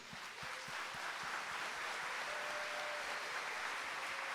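A church congregation applauding during a Portuguese-language sermon about John the Baptist, with faint, steady, diffuse clapping and a few distinct claps standing out near the start.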